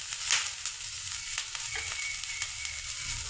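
Onion fries in a pan of oil with a soft, steady sizzle and scattered light crackles and ticks, close but quiet.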